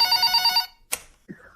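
A telephone rings with a loud, rapid electronic trill for about half a second, then stops; a short click and a faint low thump follow in the quiet afterward.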